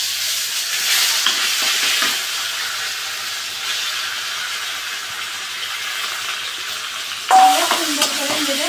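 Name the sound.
raw banana peel paste frying in hot oil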